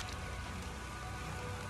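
Rain falls in the video game Valheim, a steady, dense hiss of drops on surfaces with no break, fairly faint and without any voices.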